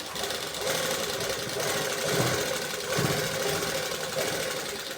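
Sewing machine running steadily while stitching a blouse patti, a continuous close mechanical whir with a slight rhythmic pulse and brief dips, loud and without talk.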